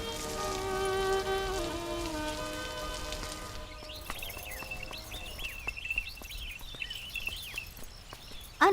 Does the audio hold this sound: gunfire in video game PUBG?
no